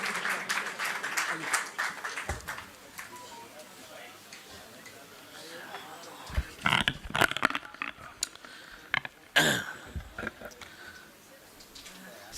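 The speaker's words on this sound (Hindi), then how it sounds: "स्वागत है, जोरदार तालियों के बीच स्वागत" A crowd at a formal Delhi assembly event breaks into bursts of clapping to welcome a speaker, scattered at first, then swelling loudly twice before fading, with a voice speaking over the room.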